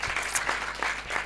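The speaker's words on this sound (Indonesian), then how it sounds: "Tepuk tangan dulu dong buat Aidrat." An audience claps at a cultural event, honoring a regional water utility company; a short burst of scattered applause from a crowd in a hall, moderately loud and without speech.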